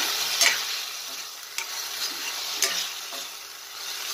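Spice masala with a pinch of sugar being stir-fried in a pan for a vegetarian potato curry, heard as a soft steady sizzle with a few distinct scraping stirs, fairly close and quiet, no voices.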